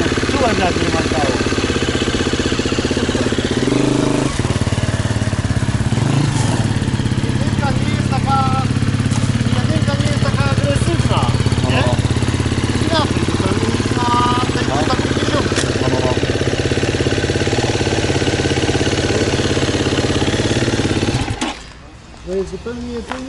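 A 2020 Husqvarna motorcycle engine runs loud and close, a steady mid-pitched rumble with fluctuating revs lasting most of the time, with someone talking over it before it cuts off near the end.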